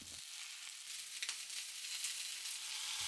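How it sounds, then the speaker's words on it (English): Yakitori chicken skewers pressed flat and sautéing over low heat in a pan, giving a steady bright sizzle with light crackles and no voices. "Saute yakitori for 6 to 7 minutes over low heat."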